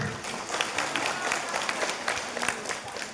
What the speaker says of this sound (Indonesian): Kita kasih tepuk tangan untuk Ketua Pembina dulu.